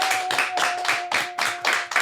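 A studio podcast audience claps to welcome a guest, a run of about eight crisp, evenly spaced claps, close and loud over a faint steady tone.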